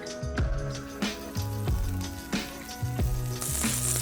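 Butter melting in a hot pan ahead of celery and onions for a stuffing, a soft sizzle running under a few rhythmic clunks and a bright hiss rising near the end.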